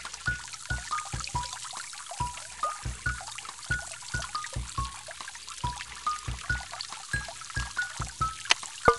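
Water pours and splashes to spin a pinwheel in a children's science app game, heard as a quick series of light, rhythmic droplet-like ticks with soft chiming tones running steadily throughout.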